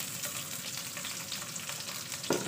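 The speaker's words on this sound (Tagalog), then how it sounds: "Lagyan na natin ang ating bawang." Garlic sizzling in a frying pan for a Filipino bulanglang, a steady close crackling hiss with a brief stir or scrape near the end, and no talking.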